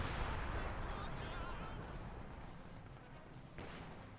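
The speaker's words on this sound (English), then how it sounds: "now we got the Commando Regiment's strategic bombing coming on in" A strategic bombing run by the Commando Regiment in Company of Heroes 2 rumbles as a dense, continuous barrage of heavy explosions and low booms. It rolls on steadily and fades slightly toward the end.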